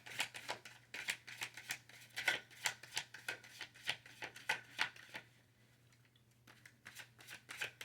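Tarot cards being shuffled by hand, a quick run of crisp riffling bursts and flicks at close range, pausing briefly near the end before a few more soft card sounds.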